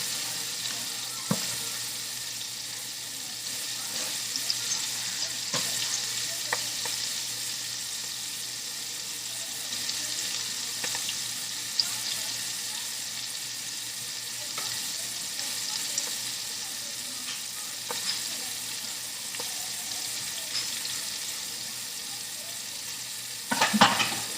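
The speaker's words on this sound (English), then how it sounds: "let those fry up" Onion strips sizzle and crackle steadily in hot oil, a dense close frying hiss that runs throughout, with a few faint clinks near the end.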